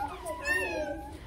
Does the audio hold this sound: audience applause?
no